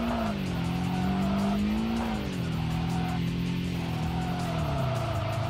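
A lightweight mid-engine Garai sports car racing in the video game Kaido Racer, with a sustained engine note rising and dipping in pitch as it shifts and tires squeal, loud and continuous without talk.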